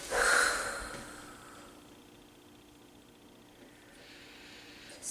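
A single breathy exhale during a core workout opens close to the mic, a soft airy rush that fades to quiet room hiss, with a faint second breath near the end.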